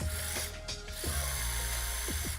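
A motorized piston ring filer grinding the end of a piston ring, heard as a steady close mechanical whir with a few short clicking, ratcheting bursts and no talk.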